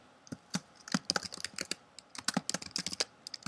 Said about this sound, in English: And then just type what you want to type.